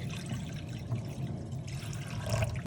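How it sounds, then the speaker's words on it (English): Water poured steadily into a kitchen pot, a continuous splashing rush with no voices. "First, pour water into a pot"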